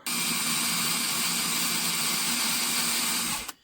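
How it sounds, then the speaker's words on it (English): A power drill whirs loudly and steadily up close, drilling metal held in a vise on a 1965 AMC Rambler American 330, for a few seconds before stopping abruptly. "I got my vise, got my drill."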